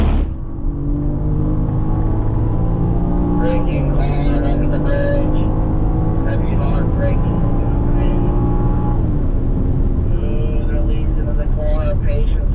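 BMW M3 on the Indianapolis Motor Speedway during a performance driving school session, engine droning steadily under throttle with a shift in pitch later on. The sound is heard from inside the car.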